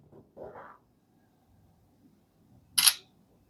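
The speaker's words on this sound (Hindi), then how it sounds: "एक पिक्चर में क्लिक कर लेता हूँ" A Realme C75X front camera snaps a shutter click: one short, bright, crisp click standing alone after a quiet stretch with faint handling noise.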